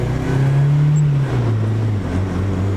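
A manual Honda with a newly bled clutch drives on a first test drive, its engine droning steadily near and loud, the pitch holding then dropping as it shifts, with no talk.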